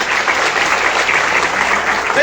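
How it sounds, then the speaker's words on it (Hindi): A crowd at a DXN program meeting gives a loud, sustained round of applause, many hands clapping close and steady, with a few voices faintly mixed in beneath. "डॉक्टर लिंगसिजन के लिए जोरदार ताली"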